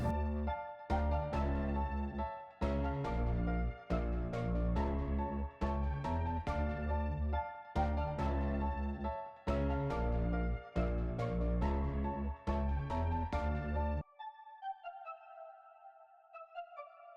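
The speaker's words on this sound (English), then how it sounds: "It is a pluck from the Studio Link VST collection" A pluck synth from the Studio Link VST collection, played in Contact, taps out a steady rhythmic pattern of bright, short notes, then gives way to a softer, sparse melodic tail.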